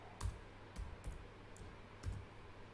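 A handful of sharp computer keyboard keystrokes clicking at an uneven pace during Python coding, fairly quiet and close, with no talking.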